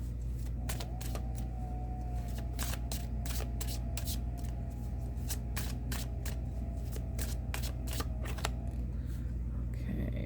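Oracle cards being shuffled for a mystical wisdom draw: a run of crisp, quick riffling snaps and flutters, close and fairly quiet, over a steady low background hum with no talking.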